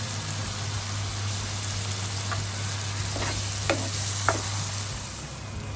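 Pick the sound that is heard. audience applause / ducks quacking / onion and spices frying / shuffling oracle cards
onion and spices frying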